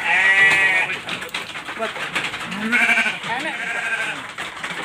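Dorper F1 Blackhead rams about six months old bleating loudly and repeatedly at a sheep farm, close by, with people talking among the calls.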